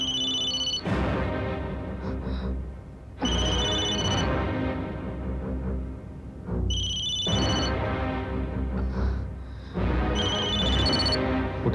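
A telephone rings in repeated electronic bursts, four loud rings with short pauses between them, no voices.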